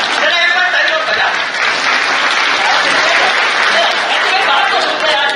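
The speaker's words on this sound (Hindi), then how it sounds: "जरा एक बार तालियों बजा" A crowd at a political rally breaks into loud, sustained applause that stays thick and even throughout, with voices mixed into the clapping.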